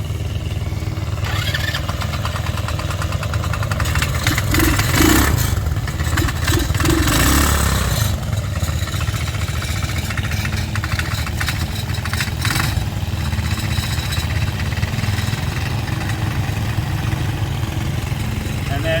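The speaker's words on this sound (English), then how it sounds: "This buggy still has its factory brake switch in. You have to step on the brake in order to start it." A Baja Dune 150 buggy engine runs close by, a steady, loud, rattly small-engine idle with some clatter and slight revving throughout, no voices.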